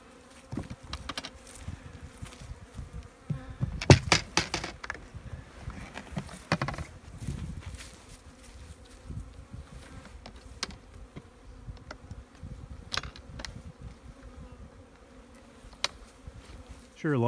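Honey bees buzz steadily around apiary colonies being fed from syrup pails, a dense insect drone with occasional louder passes of individual bees close by and a few sharp knocks, no talking.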